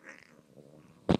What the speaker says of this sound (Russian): Сначала она, значит, уркает, мяукает